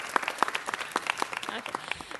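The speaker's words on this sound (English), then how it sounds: "Let's give her a round of applause." An audience in a city council meeting chamber gives a short round of applause, many hands clapping in a quick scattered patter, moderately loud and over within a couple of seconds.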